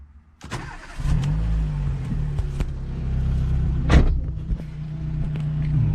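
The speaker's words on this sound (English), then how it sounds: "let's start the car." A car engine is started before its air conditioning is cleaned: a brief crank catches, then the engine settles into a steady, close idle with a slight rev.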